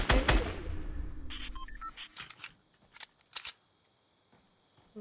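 Sniper gunfire in the Fortnite video game: a loud sharp shot with a ringing tail, then several quieter clicks and a few short bursts of shots that fade into near silence.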